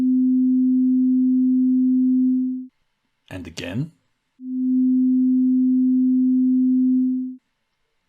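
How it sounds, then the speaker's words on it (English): A pure sine tone at 256 cycles per second sounds twice, each a steady, loud, unchanging tone lasting about two and a half seconds, with a short spoken phrase in the gap between them. "listen to this simple sound with a frequency of 256 repetitions or cycles per second."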